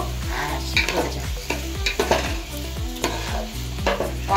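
A spatula stirs Gobindobhog rice pulao in a hot pan, giving rhythmic scraping strokes over a quiet sizzle, close and moderately loud, with no talking.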